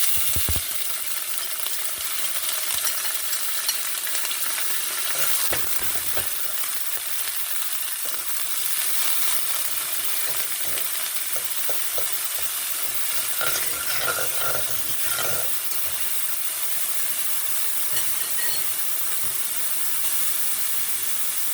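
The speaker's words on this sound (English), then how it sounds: "I'm going to go and throw in my mixed vegetables." Onions and mixed vegetables fry in a pan for a yellow vegetable rice, a steady loud sizzle with crackling bursts and occasional stirring clatter, continuous throughout with no talking.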